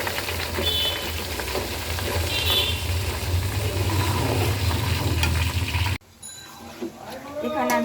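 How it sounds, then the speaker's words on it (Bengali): Ginger-garlic paste hits hot oil for an olive pickle, a loud close sizzle roaring steadily for several seconds before dropping away abruptly to a quieter background with a voice. "এখানে তেলটা গরম হয়ে গেছে, এই যে এখানে একটু আদা রসুন বাটা আছে, এটা দিয়ে দিলাম।"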